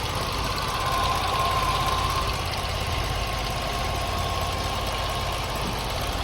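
A Toyota Tacoma engine idles steadily right after an alternator replacement, a loud, even mechanical hum close to the microphone with no speech.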